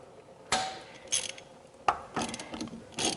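A socket ratchet with a 7/8 socket turns the drain plug on an old-style Atwood RV water heater, giving several short bursts of close, crisp ratcheting clicks separated by brief pauses.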